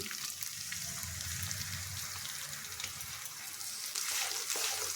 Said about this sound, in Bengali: মশলার বাটি ধুয়ে সেই জলটার মধ্যে দিয়ে দিচ্ছি